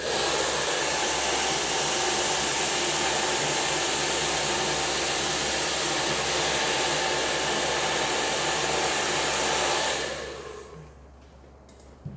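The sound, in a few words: hair dryer blow-drying hair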